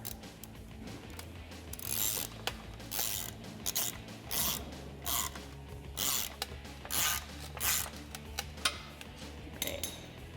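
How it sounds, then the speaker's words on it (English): A ratchet with a 15mm deep socket snugs up the exhaust clamp bolts on an axle-back exhaust of a Jeep Wrangler JL 3.6L. Close, rhythmic bursts of rapid clicking repeat over a low background hum, with no talking. "So I'm going to take a 15mm deep socket and just snug that up."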